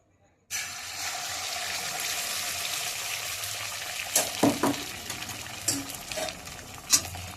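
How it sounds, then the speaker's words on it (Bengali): A loud, steady sizzle bursts in suddenly as beaten egg is poured into hot oil in a wok, followed by a few clanks of a utensil against the pan. "যে ডিমটা আমি রেডি করে রেখেছি এখান থেকে কিছুটা আমি কড়াইয়ের মধ্যে ঢেলে দিচ্ছি"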